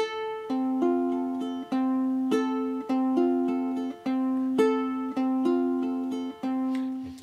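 Plucked ukulele strings repeat a steady fingerpicked pattern, clear and close, each note ringing briefly before the next.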